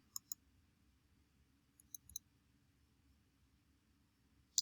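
A computer mouse clicks while selecting a filter in the Photopea image editor: a quick double click, then a small cluster of soft clicks, and one last sharper click. All are close and crisp over a faint steady hum.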